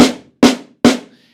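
Three sharp snare drum strokes on a four-piece kit, evenly spaced and loud, each with a quick bright crack that decays, played alone with no talking.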